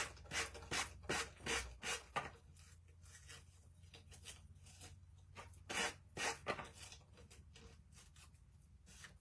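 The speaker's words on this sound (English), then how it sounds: "so you got that all smoothed out, sanding block" A sanding block rasps back and forth over wood in quick rhythmic strokes, pausing briefly, then resuming with several more scrubbing passes.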